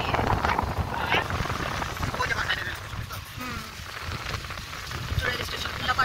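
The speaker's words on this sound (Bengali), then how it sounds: "বৃষ্টি বৃষ্টি আমাদের এই দিকে একদম" Rain, a dense steady patter on surfaces close by, heard with a constant wash of noise under it and a voice speaking over the top.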